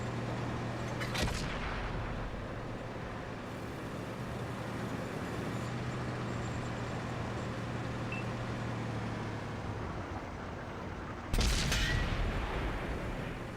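Tank cannon fire in the console game World of Tanks, featuring a tier 10 FV215b battle: two heavy booming shots several seconds apart over a constant low engine rumble.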